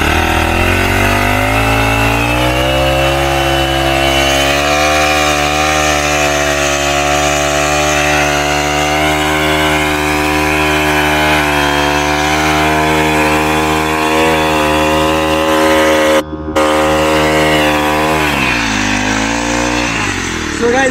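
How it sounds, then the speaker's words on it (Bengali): A petrol-powered machine runs loudly and steadily up close, its harsh buzzing engine drone holding an even pitch, briefly dipping, then winding down near the end. "দেখতে পাচ্ছেন মেশিন কিন্তু স্টার্ট হয়ে গেছে"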